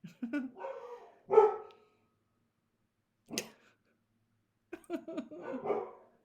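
Several short dog barks spread out with pauses between, fairly close, with a brief break of near silence in the middle.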